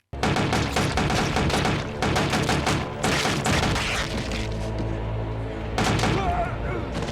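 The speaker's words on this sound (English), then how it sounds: "What the fuck are these gun sounds?" Rapid bursts of gunfire from an Arrow TV episode crackle loudly and densely, with repeated volleys and booms stacked over a continuous action score, brief gaps before the shots resume.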